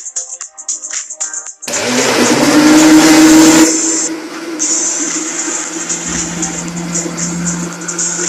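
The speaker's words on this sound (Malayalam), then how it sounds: "അപ്പോൾ ഇനി ഇത് നമ്മൾ നേരെ ജ്യൂസ് അടിക്കും" A blender whirs loudly for about two seconds as juice is made with sugar, then drops to a steadier, lower running hum, after a quiet stretch of faint hissing at the start.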